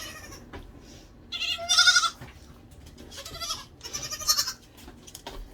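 Several goats bleat close by in short, wavering calls separated by brief pauses, with quiet rustling in between.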